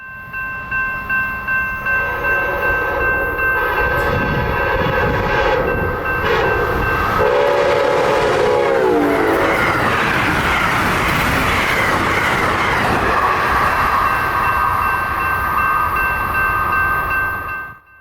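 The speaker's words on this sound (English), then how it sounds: "Speeding towards us is Amtrak 319 on its journey towards Springfield," Amtrak 319, a passenger train, speeds past on a Union Pacific 110 mph mainline, loud and close, with a horn blast as it approaches and a rushing roar and rail clatter as it passes.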